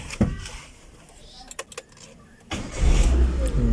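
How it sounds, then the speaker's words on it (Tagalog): A Toyota Liteace diesel engine turns over briefly after a few clicks, then catches on the first try and settles into a steady, rumbling idle close by. "One click lang siya dito. Kayang-kaya niyang paandarin."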